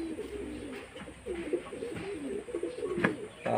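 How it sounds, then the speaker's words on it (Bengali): Red Sira Madras pigeons coo close by in a loft, with soft overlapping throaty coos running continuously at a low level and a few faint rustles. "দেখুন পায়রাগুলো"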